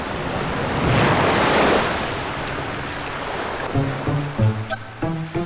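Ocean waves surge and wash in a steady roar, swelling loudly then easing, with wind buffeting the microphone; distinct resonant tonal sounds enter near the end.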